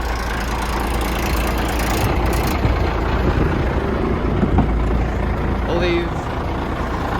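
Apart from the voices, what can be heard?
1989 International DT466 dump truck engine idling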